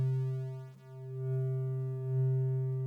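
A clean triangle-wave tone sustains steadily on a Korg Prologue 16 polysynth, a pure, even, hollow pitch with rich harmonics that dips briefly in level before holding again, with no talk.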